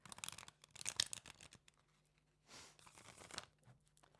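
Tarot cards being shuffled by hand in a quiet room, giving bursts of riffling, crinkling card noise that come and go over a few seconds, close and fairly soft, with no talk.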